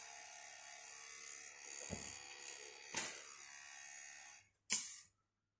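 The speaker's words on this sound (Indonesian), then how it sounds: "kipasnya itu power supply saya pakai kipas, jadi memang agak berisik sedikit ya" A faint, steady hum comes from the cooling fan of a power supply in a LED lamp setup for a Honda Vario, broken by a few soft knocks and a sharp click near the end.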